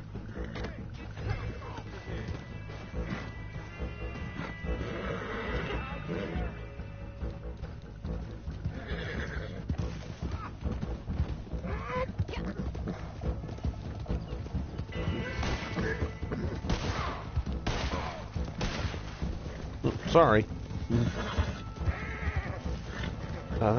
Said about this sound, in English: He's just stealing a horse.